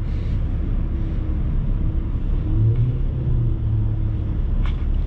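A car stuck in snow with no grip, its engine droning steadily and loud as the wheels spin in place, a continuous low rumble with a brief rise in pitch partway through and no voices.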